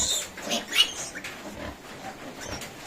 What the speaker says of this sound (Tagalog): Ayan na po yung update sa ating mga bagong panganak na baboy.